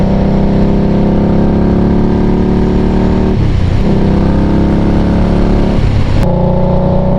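A motorcycle engine roars at close range under acceleration, a loud continuous drone broken by two brief dips as gears shift, with no talking.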